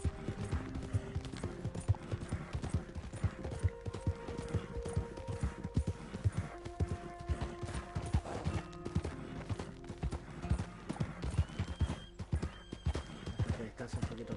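Horse hooves clip-clop steadily in Red Dead Redemption as the horse moves along at a walking or trotting rhythm, close and continuous, with occasional snorts and faint game ambience under some talk.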